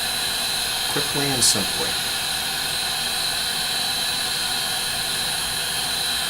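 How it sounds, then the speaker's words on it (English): A heat gun blows hot air over small model pieces during an Iron Man MK IV armor build, a steady whirring hiss that runs through the whole stretch while a voice speaks briefly near the start. "a little heat from the heat gun"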